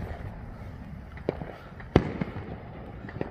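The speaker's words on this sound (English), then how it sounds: "Oh, there's some more fireworks." A few distant Fourth of July fireworks pop and bang at irregular intervals over a low background rumble.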